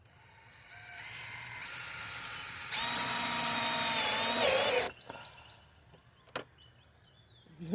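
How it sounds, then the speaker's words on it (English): A power drill whirs up, revs higher as it drives a screw into a compost tumbler, then stops abruptly; a sharp click follows in the quiet. "I'm going to drill these screws in and hope that they will hold."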